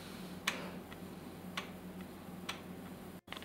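A 3D-printed DIY respiratory mask's valve gives soft, sparse clicks with each breath, a few faint ticks spaced about a second apart over a quiet background.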